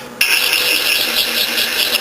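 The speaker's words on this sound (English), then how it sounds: "You grind to remove wear on the drill" A DM-43 sharpening system wheel grinds a drill bit, starting abruptly with a loud, continuous high-pitched whine and rasp that holds steady and close, with no talk.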